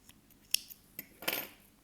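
Scissors snip through crochet yarn, giving a few quiet, close metallic clicks and a short cutting crunch near the end, with no one talking.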